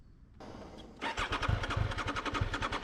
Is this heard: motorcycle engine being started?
yes